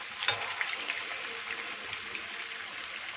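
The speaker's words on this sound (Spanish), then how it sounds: "Y le vamos dando vuelta para dorar la carne por todos lados" Meatballs fry and brown in a hot pan with a steady, broadband sizzle throughout, joined by a few soft clicks of small spoons turning them. No voices are heard.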